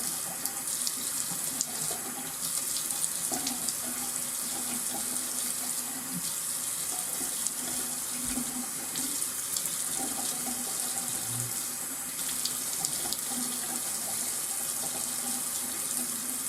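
A tap runs steadily for a morning face wash, with the flowing water splashing as a face is rinsed by hand, continuous and close throughout with small splashes and movements.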